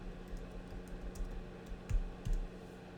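Fingers typing a short search phrase on a computer keyboard, a few soft, close key clicks with a couple of slightly louder taps over a steady low room hum.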